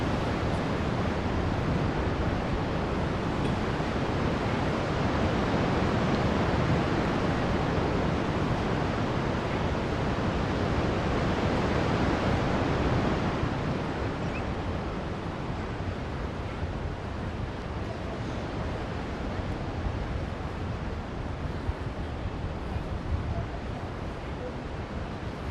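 Broad, steady rushing of water and waves on the Qiantang tidal river, continuous and fairly loud, easing slightly partway through, with some wind noise on the microphone.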